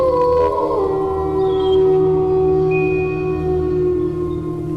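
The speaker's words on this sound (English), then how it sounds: "For whom is the wolf howling?" Wolf howls in a forest setting: long sustained tonal wails layered with overlapping higher cries, loud and steady throughout with no talking.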